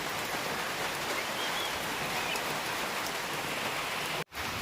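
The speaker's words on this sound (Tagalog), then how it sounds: "Eksakto pa naman mga idol na ulan." Steady heavy rain falls outdoors during copra drying in the Philippines, a dense continuous hiss that stays loud and even throughout, cut off abruptly near the end.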